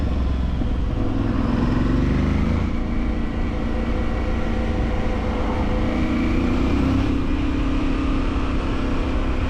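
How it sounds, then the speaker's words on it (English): An Aprilia Tuareg Rally adventure motorcycle on a test ride gives a loud, continuous engine drone with rising and falling revs and steady road and wind rumble, and no one speaks. "Today I'm on this Aprilia Tuareg Rally. I'm test riding this bike today."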